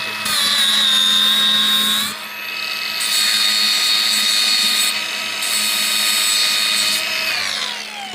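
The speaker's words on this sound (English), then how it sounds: "grind it down again, because now it's bothering me, the spot welding" An angle grinder taking down a spot weld on a homemade trailer jack drill adapter, a loud sustained high whine that dips briefly between passes and winds down at the end.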